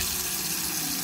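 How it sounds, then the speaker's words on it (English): A hotel bathroom sink faucet at a Hampton Inn in Clayton, Missouri runs with a steady, close hiss of flowing water for about a second, with no talk over it. "Then you got the sink, and it turns on."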